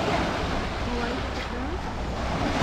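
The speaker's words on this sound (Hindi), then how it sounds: "रुको वेव आ रही है, रुक जाओ।" Sea waves break on rocks at Trasi Beach, Kundapura, Karnataka, producing a loud, continuous roaring wash mixed with gusty wind buffeting the microphone.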